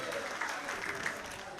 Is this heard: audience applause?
yes